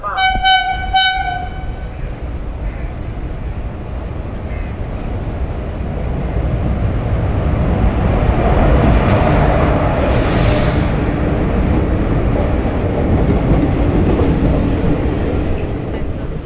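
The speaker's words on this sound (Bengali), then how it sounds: "এখন সামনে থেকে এগিয়ে আসছে one two three six four Haldibari Kolkata superfast express" The Haldibari–Kolkata Superfast Express (12364) approaching and passing: a short series of loud horn blasts at the start, then a building rumble and clatter of wheels and coaches as the train rolls past close by.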